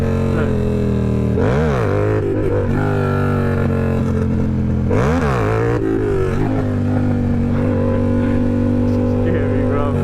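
Yamaha R7 sport motorcycle engine pulling in second gear during a wheelie, loud and close, rising and falling in revs with two sharp throttle surges; voices talk over it.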